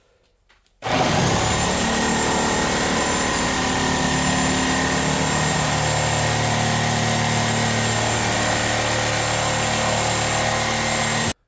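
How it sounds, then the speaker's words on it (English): Reciprocating saw fitted with a Milwaukee carbide blade cutting plain wood, starting abruptly and holding a loud, steady buzzing whine throughout with no talk. "Now we have the Milwaukee carbide blade versus the plain wood. Let's see how it does."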